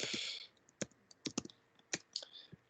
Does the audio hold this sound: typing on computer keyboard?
yes